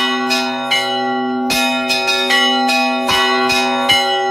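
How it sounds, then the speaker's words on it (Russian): Church bells peal from a stone bell tower across a village, with repeated loud clear strikes over a sustained ringing hum, the struck notes arriving in an irregular rhythm. "Дивный, звучный и мелодичный звон колоколов раздается на весь поселок."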